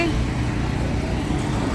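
Road traffic near a metro line in Pune, a dense steady rumble of cars and other vehicles passing close by for a couple of seconds.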